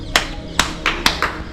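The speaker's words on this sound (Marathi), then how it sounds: "म्हणून अशा टाळ्या वाजवून" Hand claps at a temple, meant to draw the deity's attention: five sharp, fairly close claps spaced unevenly over about a second and a half, each crisp and distinct against a quiet background.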